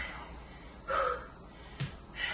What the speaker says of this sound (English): You're breathing hard.